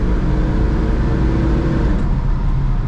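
An Emberglo 66 GT car accelerates hard and downshifts, a loud, close, continuous engine roar with a rumbling low end that holds steady throughout, with no talking.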